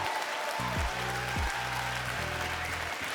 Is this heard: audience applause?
yes